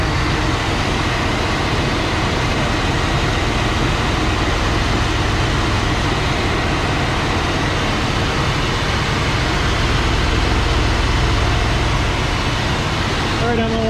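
A 1966 Ford Galaxie 500 V8 idles while warming up after radiator repair, a steady, unbroken broadband rumble and hiss at constant loudness throughout.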